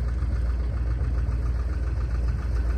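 A twin-engine propeller plane's engines rev at Frederick Municipal Airport, a steady low droning rumble with a pulsing throb, heard from a moderate distance and continuous without talk.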